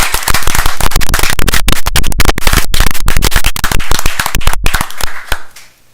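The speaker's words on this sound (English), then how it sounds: "let's give everybody a round of applause." A school board meeting audience gives a round of applause: loud, sharp, close handclaps in a dense burst that thins out and fades over the final second.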